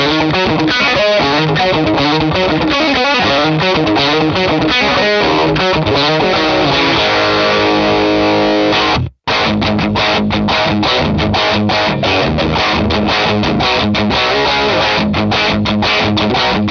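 A Fender Telecaster electric guitar with heavy, high-gain distortion is dialed toward a rock tone. It plays loud, continuous riffs with sustained chords, then cuts out briefly midway before the playing resumes.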